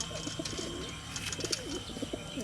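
Soft, repeated pigeon coos murmur at a moderate distance, low and throaty, with a few faint chirps and a steady background hum.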